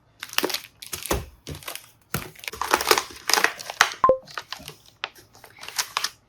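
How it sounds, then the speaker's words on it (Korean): Plastic packaging around a Hobonichi diary crinkles and tears close up in loud, irregular bursts of crackling, with brief pauses between pulls. "그래서 제일 궁금했던 호보니치부터 한번 뜯어볼게요"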